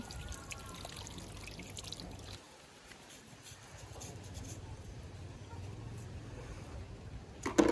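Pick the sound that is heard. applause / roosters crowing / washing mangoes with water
washing mangoes with water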